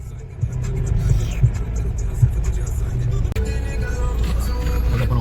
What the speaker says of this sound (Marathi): आता आम्ही गाडीमध्ये बसलो आहे